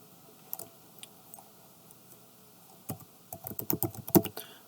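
Keys clatter on a computer keyboard while a password is typed: a few scattered taps early on, then a quick burst of rapid, close keystrokes near the end, with no voices.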